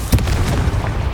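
A Confringo spell fires in Hogwarts Legacy, producing a short, loud, booming blast with a burst of crackling noise that lingers briefly.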